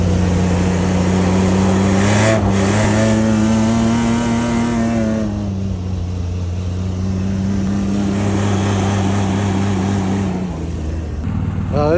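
A Nissan Pathfinder engine revs hard while the SUV is stuck off-road. The loud, sustained droning note climbs and dips as the driver works the throttle, with a voice briefly present.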